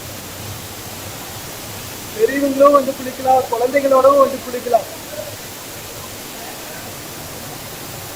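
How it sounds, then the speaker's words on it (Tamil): Kannupulimettu Falls near Gundaru Dam, a steady broadband rush of falling water filling the whole clip at close range, with someone speaking over it in the middle. "அருவி விழுற சவுண்டு சும்மா காதுக்கு அமிர்தமா இருக்குங்க"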